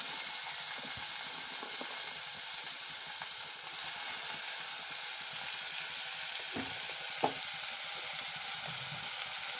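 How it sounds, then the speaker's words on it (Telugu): Chopped onions fry in a pan for a beans and cauliflower curry, giving a constant soft hiss of sizzling oil with occasional faint stirring scrapes. "తర్వాత మనం కట్ చేసి పెట్టుకున్న ఉల్లిపాయలు కూడా వేసుకుని ఫ్రై చేసుకోవాలి"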